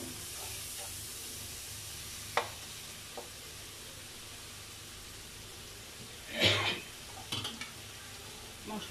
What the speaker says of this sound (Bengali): এ পর্যায়ে আমি আর একটু পানি দিয়ে মশলাগুলো কষাবো।